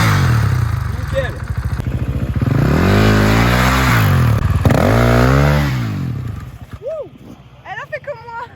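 A motorcycle engine revs up and down in bursts during a drift U-turn, rising and falling in pitch as the clutch is worked, with people talking over it and the engine fading near the end.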